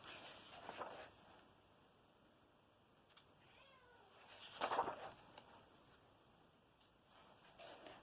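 Faint cat meows in the background, a few soft drawn-out calls spread across the stretch, distant and quiet against low room noise.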